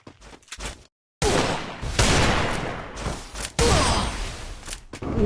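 Rapid gunfire bursts crackle from a mobile shooter game, dense and loud after a brief silence, with fire continuing in uneven spurts and no voices.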